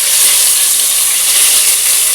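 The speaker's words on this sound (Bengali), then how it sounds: "তো গরম মশলাগুলো ভাজা হয়ে এসছে" Whole spices such as cardamom, cloves, cinnamon and bay leaves sizzle in hot oil for egg biryani, a constant bright hiss held close and steady with no talk.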